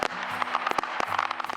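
Fireworks being shot off at an Effingham display, a rapid string of sharp crackling pops and bangs with a faint low hum underneath.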